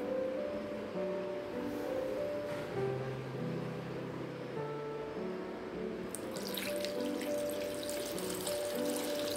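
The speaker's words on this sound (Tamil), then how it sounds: "ஸோ கொஞ்சமாக தண்ணி ஊற்றி ஃபஸ்ட்டு புளியை ஊற போட்டுருங்க." Water is poured over tamarind in a bowl to soak it for rasam, a quiet, steady trickle and splash running for several seconds in a home kitchen.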